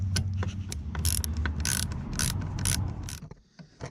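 A socket wrench on an extension bar works loose the ignition coil bolts during a spark plug replacement, giving close, busy mechanical clicks and ratcheting scrapes over a low hum, with no talk.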